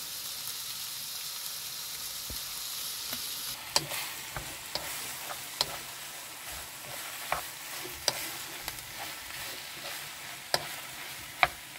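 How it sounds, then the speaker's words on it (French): Minced beef stirred and mashed in a sizzling pan, a constant frying hiss broken by sharp scraping knocks of the utensil every second or two, close and without talk. "Donc on mélange bien, on tatouille, on tatouille."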